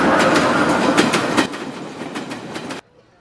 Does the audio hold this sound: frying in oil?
no